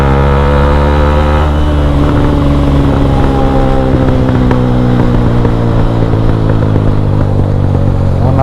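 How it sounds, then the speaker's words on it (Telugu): Royal Enfield Bullet motorcycle engine thumping steadily and loud throughout a ride in fog, with a continuous low drone and clattering mechanical texture alongside other traffic. "నా ముందర అయితే ఒక బుల్లెట్ వెళ్తుంది,"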